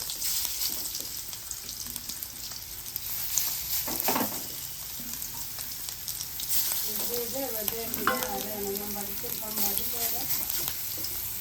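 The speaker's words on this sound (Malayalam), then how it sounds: "ഇതിന് നമ്മളെ എണ്ണയ്ക്ക് ഇട്ടൊന്ന് ഫ്രൈ ആക്കി എടുക്കാം" Masala-marinated chicken pieces fry in hot oil, a close continuous sizzle and bubbling crackle with occasional scrapes, and a brief running-water sound and faint background noises partway through.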